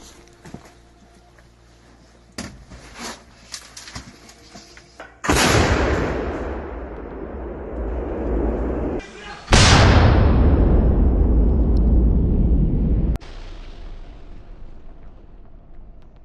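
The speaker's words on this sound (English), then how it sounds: "Russian artillery units are shelling the positions of the Ukrainian armed forces with intense fire." Howitzer artillery booms out twice, each blast loud with a long rolling rumble that fades slowly, over a background of faint distant thuds and pops.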